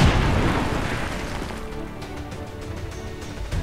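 A grenade detonation in XCOM 2, one loud close blast right at the start whose rumble decays over a few seconds into quieter debris and game sounds.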